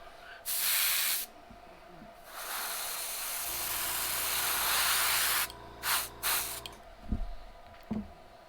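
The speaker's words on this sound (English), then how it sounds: "we're going to spray this with the gold" Short hissing bursts of gold spray paint on a fishing lure, first a quick blast, then a longer steady spray, followed by several brief spurts and light clicks nearby.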